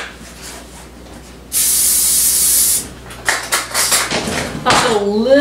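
Cooking spray blasts onto baking pans in one steady, loud hiss lasting about a second, followed by clanks of the pans being handled and a voice speaking.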